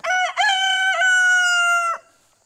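A backyard homestead rooster crows loudly and close by, one full cock-a-doodle-doo with stuttering opening notes and a long sustained final call lasting about two seconds, then quiet.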